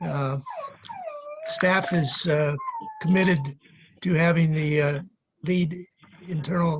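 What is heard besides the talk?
dog whining in the background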